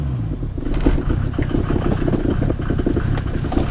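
A 1990 Mercedes 300D diesel engine running, a close, loud, steady clattering rumble with rapid rhythmic knocking throughout.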